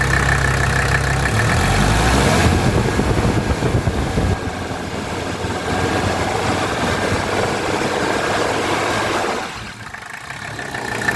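A 1985 Mercedes 300TD wagon diesel engine idles steadily nearby, a continuous rumbling hum with no talk, settling slightly lower toward the end.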